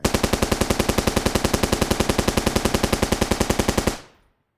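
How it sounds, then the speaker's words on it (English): Rapid machine gun fire from War Machine in an Avengers action game, a steady burst of evenly spaced loud shots that runs about four seconds and then stops abruptly, leaving a short fading tail. "Looks like War Machine shot down all those guys"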